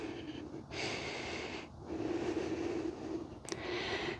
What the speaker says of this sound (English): Pause for a couple deep breaths